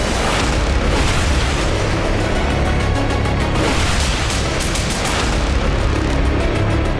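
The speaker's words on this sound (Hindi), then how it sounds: "युद्ध क्षेत्र से लगभग 700 किलोमीटर दूर स्थित इस एयरबेस पर एक बड़ा विस्फोट हुआ और आग लग गई" A large explosion and fire at a Russian strategic bomber airbase, Engels, struck by a drone attack, heard as a loud, sustained, rumbling roar with dense crackling and bursts throughout, no voices present.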